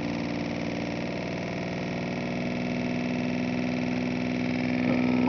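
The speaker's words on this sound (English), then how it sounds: "Yeah, the motor's running quite well." A Bedini motor runs below full speed with a steady, close mechanical hum and whir, holding even throughout with a slight rise at the end.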